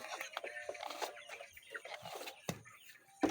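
Pet chickens cluck near a rural hut, giving a string of soft, irregular clucks and short calls, close and fairly quiet, with no talking.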